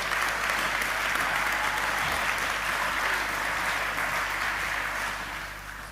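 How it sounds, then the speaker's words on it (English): Steady, sustained applause from an audience at an awards ceremony, a dense wash of clapping that holds evenly before easing slightly at the end. "A round of applause for Jan Chorley."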